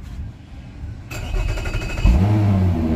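A Mercury marine outboard engine cranks and catches, sliding into a steady low idle rumble up close, loud with no talk.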